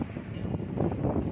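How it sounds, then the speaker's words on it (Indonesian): Strong wind gusts during rain in Pondok Ungu Permai, Bekasi, buffeting the microphone with a rough, fluctuating low roar over a brief stretch, close and fairly loud, with no voices. "Angin besar"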